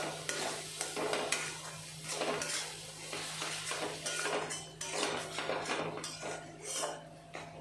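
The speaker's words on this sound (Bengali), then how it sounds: "মশলা ভালো মতন কষিয়ে নিতে হবে" Spices for chicken curry are stirred and fried in a pan: steady scraping of a utensil against the metal over a soft continuous sizzle, with a low constant hum underneath.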